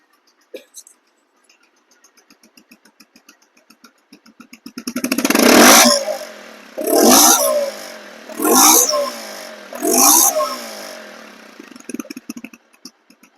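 A 2023/24 second-hand Bajaj Pulsar DD ABS motorcycle idles quietly with soft ticking, then its engine is revved loudly four times in quick bursts, each falling back between the revs.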